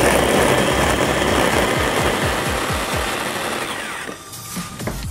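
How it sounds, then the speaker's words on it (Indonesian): An electric chopper whirs steadily while grinding fresh red chilies into a balado spice paste, with a continuous rattling motor buzz up close that eases slightly near the end. "Nah, bumbunya kita chopper sampai halus ya."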